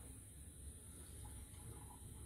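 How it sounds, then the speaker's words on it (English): A sink tap runs as the warm water is switched off to go cold, a steady faint rushing stream with no pauses and no voices. "Cutting off the warm water so it gets cold."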